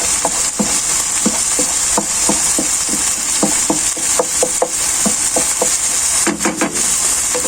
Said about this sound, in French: Donc là, hop, je vais rajouter les tellines.